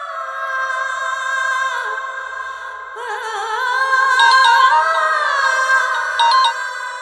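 A phone ringtone plays during a call in a crime drama: a steady, bright electronic melody with layered chiming tones that carries on without a break for about seven seconds, with no voices over it.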